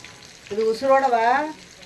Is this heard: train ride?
no